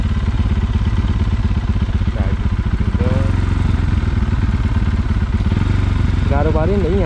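A motorcycle engine runs loud and close on a muddy road, holding a steady rattling drone for the whole stretch with a few brief revs, while voices can be heard over it.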